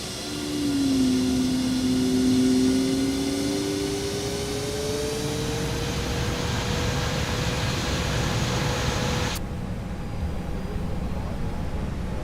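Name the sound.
Airbus A321neo jet engines in X-Plane 12 video game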